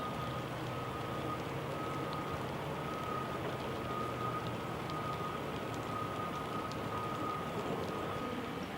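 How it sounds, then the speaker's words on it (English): Pouring rain falls steadily at a muddy hillside worksite, a faint, even hiss with a low machine hum underneath and no voices. "And this is all going on in the pouring down rain."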